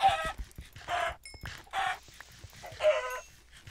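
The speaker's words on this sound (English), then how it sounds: "Some more chickens." Chickens in a Minecraft-style survival game cluck in four short, separate bursts spaced about a second apart, fairly close and distinct, with faint game sounds between them and no talk over the calls.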